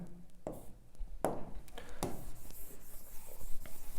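Quick, scratchy writing strokes on a board during a Class 12 physics lesson on the electric field of a charged spherical shell, several distinct short strokes with pauses between them, quiet and close, with no talking.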